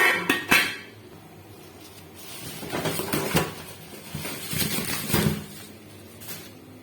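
Metal lid set onto a cooking pot in a home kitchen, a couple of sharp clanks near the start followed by softer scattered knocks and rattles of cookware, close and moderately loud.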